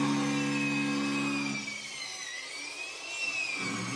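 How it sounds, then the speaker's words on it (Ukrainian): A continuous high-pitched rotary hammer drill whine with a buzzing drone holds steady throughout, dipping slightly midway. "Я знайшов ось на на Ютубах е, на 10 годин звук перфоратора."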